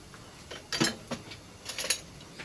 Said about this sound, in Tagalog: Tapos, haluin lang natin ng haluin hanggat sa maluto yung bawang.